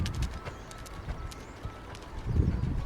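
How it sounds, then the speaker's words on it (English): A horse canters over ground poles, its hoofbeats thudding rhythmically close by over a low background, with no talking. "Then we decided to canter over the poles."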